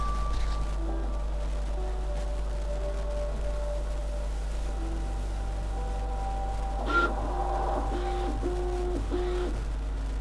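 Steady mechanical hum with rhythmic stepper-motor tones shifting in pitch, a Creality K1 Max 3D printer working continuously at close range.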